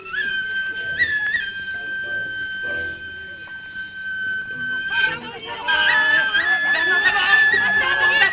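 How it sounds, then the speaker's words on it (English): A high, wavering film sound-effect whistle tone sustains and bends in pitch over a faint background, then returns louder and more warbling. "this really bizarre and annoying whistle sound effect"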